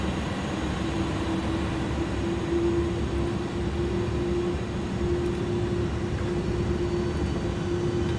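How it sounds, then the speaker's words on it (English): Simulated Airbus A300 cargo jet spooling up at the start of its takeoff roll in a flight simulator: a steady broadband engine roar with a constant droning hum underneath, even and unbroken, with no voices. "Set takeoff thrust."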